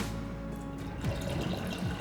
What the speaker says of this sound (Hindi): हम इसमें थोड़ा और पानी ऐड करेंगे।